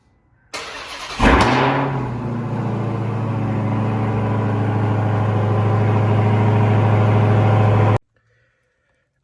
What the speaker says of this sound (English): I'm gonna hit y'all with this quick cold start